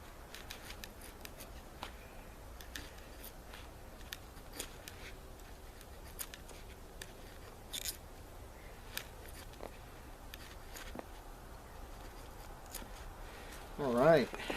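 A BPS HK1S knife shaving feather sticks from wood, producing faint, repeated short scraping strokes at a steady rhythm, close and quiet, with a brief voice near the end.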